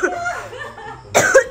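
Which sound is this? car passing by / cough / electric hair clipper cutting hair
cough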